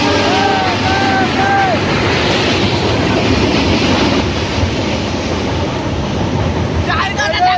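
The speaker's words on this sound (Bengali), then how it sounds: "ওই যে ওপর দিয়ে ট্রেন যাচ্ছে আর আমরা নিচে দাঁড়িয়ে আছি।" A train crosses Coronation Bridge overhead, heard from the riverbank below as a loud, continuous rumble and clatter that fills the whole stretch, with a few tonal squeals early on and near the end.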